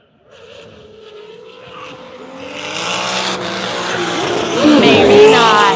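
Drift cars at a Formula Drift event at Road Atlanta, engines building from a low rumble to a loud roar with tire squeal near the end, while people talk over it.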